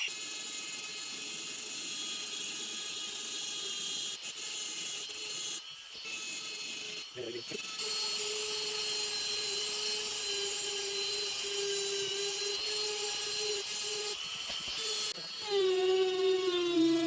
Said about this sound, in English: I'm going to be using a medium grade sintered diamond burr to even this out a little bit